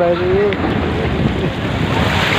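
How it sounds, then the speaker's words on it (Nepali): Sea waves washing onto the shore near the Burj Al Arab, heard as a steady broadband rush mixed with wind buffeting the microphone, with a brief voice at the start. "यो समुद्र यही समुद्रको छाल"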